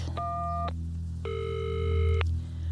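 A telephone gives two electronic ringback tones, a short one and then a longer one, over a low steady hum. The sound is fairly faint and there is no talk.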